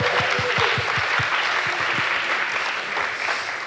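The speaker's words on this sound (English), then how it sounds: "Give him a round of applause." Audience round of applause in a room: dense, loud, sustained clapping from a crowd, close by, with a few distinct heavy claps near the front, fading slightly toward the end.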